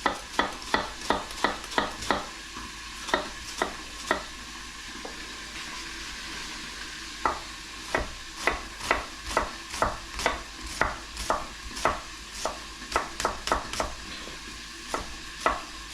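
Onions frying in a pan with big chunks of beef for Texas chile con carne, a soft sizzle under repeated sharp clacks of a utensil against the pan in irregular bursts, no talk.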